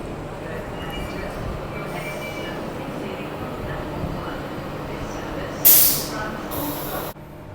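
A Transperth A-series suburban electric train on the Thornlie Line rumbles steadily past close by, its wheels grinding, with a sharp metallic squeal flaring up briefly near the end.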